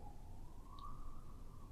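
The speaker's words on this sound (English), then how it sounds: "Sorry about that siren." A faint siren wails in the distance, its tone rising slowly over a low background rumble.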